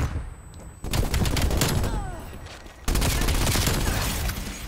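PPSH-41 submachine gun in Call of Duty Cold War, two long rapid bursts of close automatic fire separated by a brief pause, loud and crackling.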